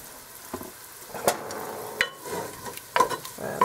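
Onions fry in a pan for beef pilau, with a soft continuous sizzle broken by several sharp spoon knocks and scrapes against the pan as they are stirred, fairly close.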